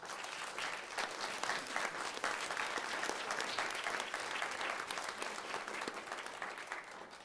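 Conference audience applauding at a wrap-up session, a broad, continuous patter of many hands that stays level throughout and sounds quiet and somewhat distant.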